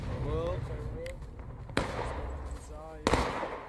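Musket gunfire in the War of Rights video game, heard as two sharp, loud cracks a moment apart over steady battlefield ambience, with people talking throughout.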